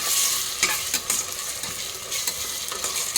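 Ginger garlic paste frying with onions in a pan, stirred steadily with a spoon; a continuous bright sizzle runs throughout with soft scraping strokes of the spoon, close and fairly loud, no voices.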